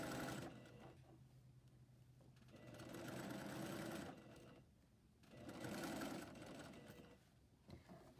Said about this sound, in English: I just pull the rest of the sleeve in as I sew.